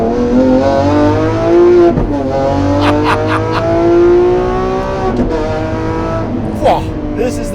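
A Lamborghini Aventador SVJ's engine and exhaust rev loudly and close, a strong harmonic drone rising and falling with sharp bursts, while someone talks over it.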